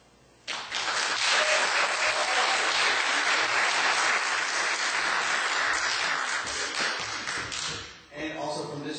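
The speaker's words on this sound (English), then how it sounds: "every candidate in here deserves a big applause for all the hard work they've done" A room full of people applauds candidates at a county magistrates' meet-the-candidates event, steady dense clapping lasting several seconds before tapering off as a voice begins to speak.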